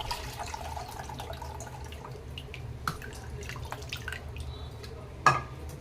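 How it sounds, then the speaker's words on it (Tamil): Strained tamarind water trickles and drips into a cooking pot for Tamil fish kuzhambu, a quiet, steady watery patter with a few small splashes near the end and no talking. "இப்போ பாருங்க, நான் கரைச்ச புளியை வந்து தண்ணியை மட்டும் வடித்து ஆட் பண்ணிக்கலாம்."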